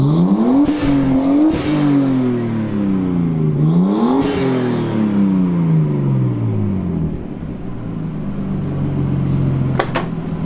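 Nissan Skyline R32 engine idles loudly, then revs up and down in repeated rising and falling sweeps, close and sustained, with a brief sharp click near the end.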